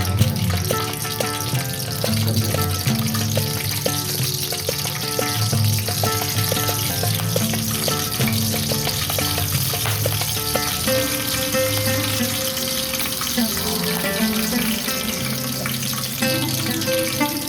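Mustard seeds and cumin sizzling in hot oil for puliyogare, a steady crackling fry throughout with a tonal background hum, close and continuous, with no speech.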